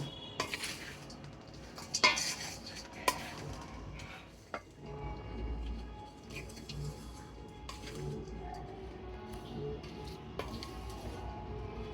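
A spoon stirring a makhana dry fruit ladoo mixture with cardamom powder in a metal bowl, steady scraping and occasional clinks against the bowl, close and moderately quiet.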